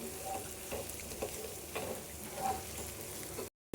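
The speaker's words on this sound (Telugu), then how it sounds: "ఇప్పుడు మనం ఫ్రై చేసుకొని పెట్టుకున్న కాకరకాయ పీసెస్ని అయితే ఇందులో వేసేసుకోవడమేనండి వేసుకొని మంచిగా కలిపేసుకోవడమే" Fried bitter gourd pieces sizzle in a pan as they are stirred, a steady crackling fry with soft scraping strokes of the spoon, close and moderately quiet, ending in abrupt silence.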